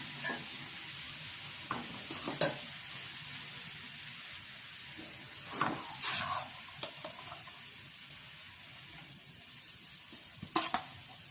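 Grated carrots cook and sizzle in a pan for creamy carrot halwa. A steady frying hiss is broken by intermittent clusters of scraping and stirring clatter from a spoon against the pan, with no talking.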